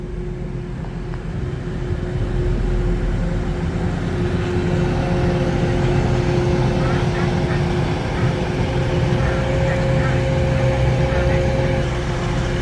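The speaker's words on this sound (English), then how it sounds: "Now arriving on platform 1 is the 12:39 Northern service from Scarborough to Sheffield." A Northern service train from Scarborough to Sheffield pulls into Meadowhall station, a loud sustained rumble with a steady whining tone that builds and holds close by, with voices faintly present.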